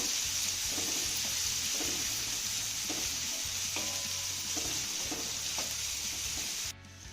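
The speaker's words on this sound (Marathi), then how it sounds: "हा कांदा ना हलक्या सोनेरी रंगावरती चांगला परतून घेऊया" Finely chopped onion sautéing in a pan toward light golden brown, a steady low sizzle with a series of spatula scrapes and stirs at a regular pace, close and moderately quiet, cut off abruptly near the end.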